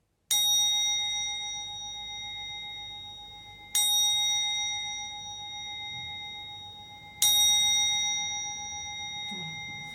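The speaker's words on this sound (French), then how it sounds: "Je vais d'abord faire le gong" A gong is struck three times at even intervals of a few seconds, each stroke ringing out with a bright, sustained metallic shimmer that slowly decays before the next hit, alone without talk.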